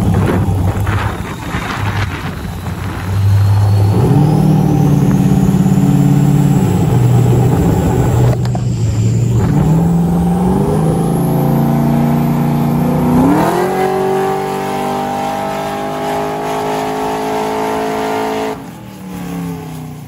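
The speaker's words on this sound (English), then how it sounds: "Check out this LS7 motor, stage 3 cams, stage 3 head." Camaro SS with a swapped LS7 engine, stage 3 cams and head, revving hard on a dyno; a loud, sustained roar climbs in pitch across the pull with wind buffeting, ending in a drop.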